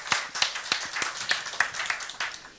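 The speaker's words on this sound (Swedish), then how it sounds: "En stor applåd." A small seminar audience gives a round of applause, distinct individual hand claps overlapping in a loose, uneven rhythm, fairly close and moderately quiet.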